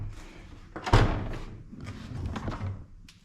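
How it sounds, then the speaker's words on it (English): Trunk of a Mercedes-Benz C300 being opened, a single thunking latch release near the one-second mark followed by soft rustling and handling sounds, fairly close and moderately loud. "Let's open the trunk real quick."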